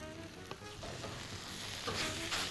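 Chicken sautéing in a pan for a tray of chicken with ketchup, a dense steady sizzle with a couple of faint stir knocks, brief and without speech.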